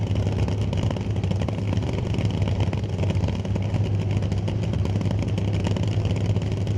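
A drag racing car idles loudly and steadily with a deep rumble as it creeps into the pre-stage beams at Mission Raceway Park.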